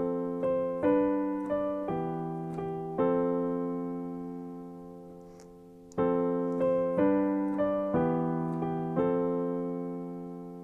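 Piano accompaniment of a song intro: sustained chords ring and decay, with an extra single note slipped in just before each chord change, slow and gentle, close, with no voice.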